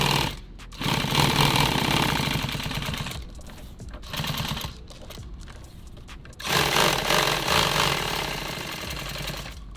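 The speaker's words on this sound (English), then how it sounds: "we will just start sewing some of these pieces" Sewing machine stitching nylon tactical gear pieces, a rapid mechanical chatter running in loud bursts that stop and restart with short pauses between seams, with no talking.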